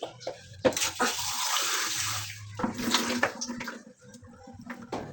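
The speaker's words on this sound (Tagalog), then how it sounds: "Lagyan ta ulit ng tubig." Water splashes and pours steadily into a pot, with clattering and a few faint sounds in between.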